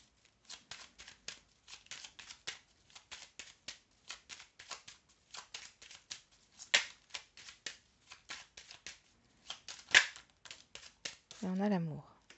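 Playing cards are handled and shuffled during a tarot-style card reading, a close run of crisp, rapid snaps and riffles in uneven bursts, with a brief voice near the end.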